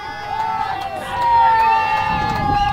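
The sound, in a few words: crowd cheering from the Nova Scotia camp at a cricket match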